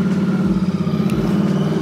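A Royal Enfield Continental GT 650 twin with a free-flowing aftermarket exhaust idles loud and near, a deep throbbing burble with a couple of low blips in the rhythm.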